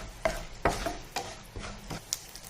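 Tempering spices, mustard seeds, jeera, chana dal, urad dal and turmeric powder, frying in a pan while a spoon scrapes and stirs in several distinct strokes over a soft background sizzle.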